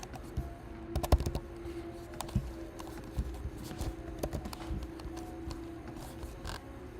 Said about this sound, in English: My bad, I was typing.